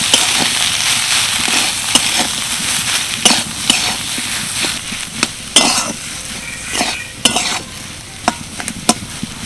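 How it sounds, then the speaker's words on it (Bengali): A spice mixture of salt, turmeric, roasted spice powder and garam masala is stirred and fried in a pan for a tiffin snack, with a steady loud sizzle broken by repeated sharp scrapes and clinks of the spoon against the pan. "এবার সব কিছু ভালো করে মিশিয়ে নেব"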